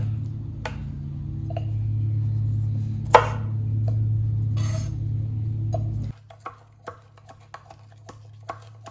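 Sliced jalapeno muddled in a glass, a few sharp taps and knocks over a steady low hum, then a scattered run of quicker, lighter clicks once the hum drops.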